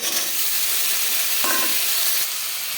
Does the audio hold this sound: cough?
no